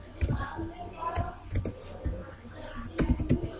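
C code being typed on a computer keyboard, with irregular clusters of soft key clicks at close range and quiet speech in the background.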